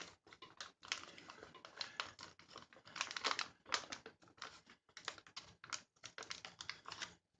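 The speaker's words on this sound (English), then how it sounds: "You zip the zipper as best as you can." A small zipper is worked closed on an MRE dairy shake pouch: quiet, close bursts of rapid clicking and plastic crinkle in short, uneven runs with brief pauses between them.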